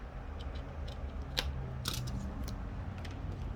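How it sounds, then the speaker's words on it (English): Scissors snip through an adhesive strip during a Samsung Galaxy S10e back-glass replacement: a few sharp, close cuts over a quiet room background. "Alright, then I will cut this one"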